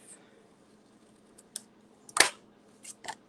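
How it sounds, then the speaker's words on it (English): Scissors snipping tape or paper while a Christmas card kit is put together, a few sharp, quiet cuts spaced apart, the loudest one near the middle, in a quiet room. "And then I'll snip it off."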